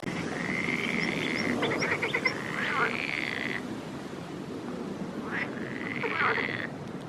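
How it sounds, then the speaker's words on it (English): Frogs croak in a garden in Nantes, with repeated rising, trilling calls in two clusters over a steady hiss of background noise, fairly close and clear. "Just hear lots of frogs in here."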